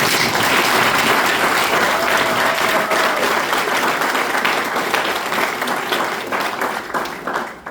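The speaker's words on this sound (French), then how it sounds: "Vous pouvez applaudir Sa Majesté." A crowd claps steadily in a dense wash of applause that gradually thins and fades toward the end.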